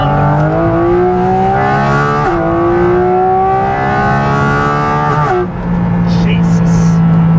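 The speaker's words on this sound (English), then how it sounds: "We'll rev it a little here, so we put it in PDK Sport, and there we go down to second" A Porsche GT4 RS engine in PDK Sport mode climbing in rising revs inside the car, with two sharp shifts breaking the tone before it settles into a loud, steady drone.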